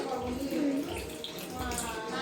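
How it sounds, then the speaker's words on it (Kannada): Water trickles in small splashes into plain cake batter mixed with sugar and oil, a steady close pour lasting about two seconds, with a voice faintly underneath. "ಸ್ವಲ್ಪ ಸ್ವಲ್ಪನೇ ನೀರು ಹಾಕ್ಕೊಂಡು"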